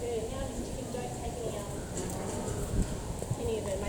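Horse hooves clip-clop at a steady pace on a farm, the rhythmic strikes blending with nearby talk and ambient noise.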